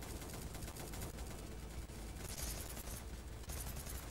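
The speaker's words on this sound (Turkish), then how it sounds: "Adamda direkt makineli var abi. Abi makineli yardı bizi yani." Sustained automatic gunfire in the video game Soldiers Of The Universe, a dense, continuous burst of rapid machine gun shots with bright impact crackle, loud and unbroken across the whole stretch with no talking.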